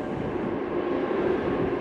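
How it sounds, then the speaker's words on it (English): A diesel coal train hauled by two diesel locomotives rumbles past near electrified tracks in Bowen, Queensland, a steady broad roar with no pauses, close and continuous. "this coal train is diesel"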